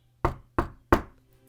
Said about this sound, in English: Soon, Red got there and knocked at the door.